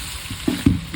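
Ginger garlic paste frying in a hot pan for a curry, with a low background sizzle and a few louder spatters and stirring bursts over one second.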